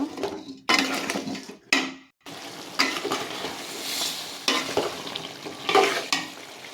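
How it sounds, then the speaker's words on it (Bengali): Pieces of bottle gourd are stirred into sizzling fried spice masala, with irregular bursts of spatula scraping and clinking against the pan and brief pauses between strokes, under a steady frying hiss and with no talking. "কষানো মশলার ভিতরে লাউ ছেড়ে দিলাম এটাকে ভালো করে লেড়ে ছেড়ে নেব"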